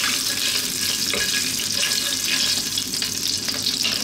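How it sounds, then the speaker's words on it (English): Cumin seeds sizzle in hot oil in a pan over high heat, a dense, steady crackling hiss heard close and without talk. "Let's chop those cumin seeds in. And just for a few seconds, let them do their thing in that oil."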